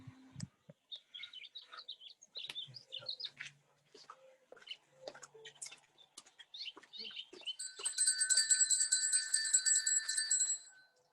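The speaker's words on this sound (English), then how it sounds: "I was called to find my bell just while Natasha was offering the meditation" A meditation bell rings out near the end, a bright, sustained metallic tone with shimmering overtones, following a stretch of scattered faint chirps and small clicks.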